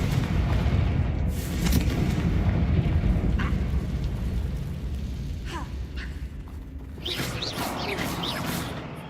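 A Confringo blasting spell goes off in the Hogwarts Legacy video game, a heavy rumbling explosion with a crackling tail and a few sharp magical zips and chimes over the game's background noise.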